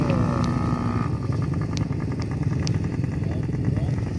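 A motorcycle engine drones steadily and close at a low, even idle-like pitch, with someone speaking French over it.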